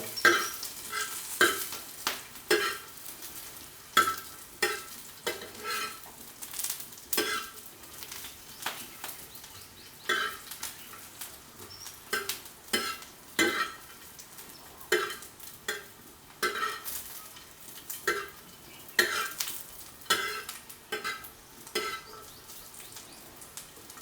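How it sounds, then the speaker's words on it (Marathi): Roasted green chillies and garlic stirred in a pan for Konkan-style bombil thecha, a steady run of scraping spoon strokes over a light sizzle, close and fairly quiet with no talk. "आता आपण त्यामध्ये लसूण टाकून घेऊ व्यवस्थित आपलं हलवून घ्यायचं आहे"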